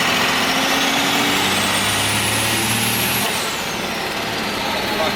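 A 12-valve Cummins diesel swapped into a square-body truck revs up loudly, rising and holding, then dropping back as the engine unloads, with a short air-brake-like hiss.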